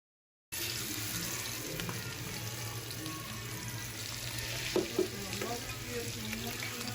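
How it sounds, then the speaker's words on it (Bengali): Hilsa fish pieces frying in white oil in a kadai, a steady, close sizzle and crackle that runs without break, with a couple of brief clinks near the end. "দিয়ে দিলাম সাদা তেল। এখন মাখিয়ে রাখা ইলিশগুলা আমি এক এক করে দিয়ে দিব।"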